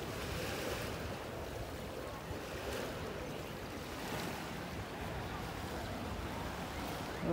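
Ocean waves wash steadily onto a beach at Discovery Bay, a continuous broad surf roar mixed with wind buffeting the microphone, fairly loud and unbroken.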